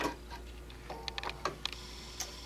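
A sewing machine stitches quilt pieces together with a fast, light ticking run of needle strokes, close and quiet over a low steady hum.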